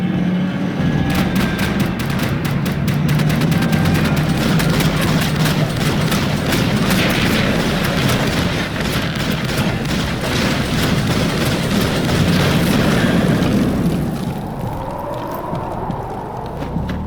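Rapid gunfire rattles nearly nonstop in a shootout in the video game Max Payne 3, with dense bursts and booms under loud action for about fourteen seconds before easing off into quieter noise.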